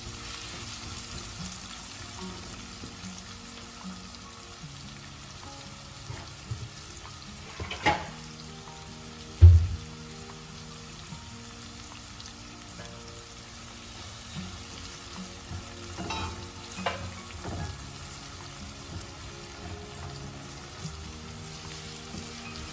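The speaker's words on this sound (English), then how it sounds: "So this onion has to cook a bit." Chopped onion frying in a pan for achar chicken gives a steady close sizzle throughout, with a few brief clatters of utensils partway through and no talking.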